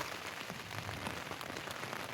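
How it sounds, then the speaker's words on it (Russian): Morning rain falls on a camping tent by the sea, a soft, steady patter of dense drops that stays quiet and even throughout, with no voices. "Утром дождик поливает"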